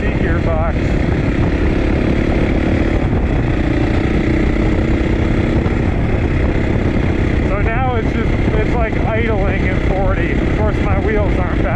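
A 450 dirt bike with a wide-ratio six-speed gearbox rides loud and close, its engine note rising through the gears under wind rush, with a person talking over it.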